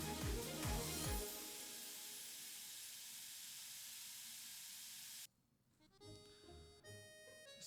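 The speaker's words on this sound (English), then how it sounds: "Nope, we are still sizzling." Continuous hiss of a slime enemy's sizzling effect in a Unity metroidvania game, holding steady for about five seconds after a brief tonal burst, then cutting off into quieter game tones.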